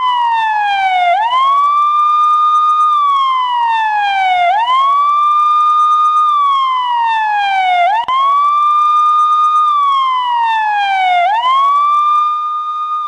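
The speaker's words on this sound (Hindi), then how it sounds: "पाकिस्तान में चारों तरफ एम्बुलेंस की आवाज और एम्बुलेंस के सायरन गूंज रहा था।" Ambulance sirens wail continuously in a loud, repeating rise-and-fall cycle, each sweep gliding down and snapping back up about every three to four seconds, with no voices present.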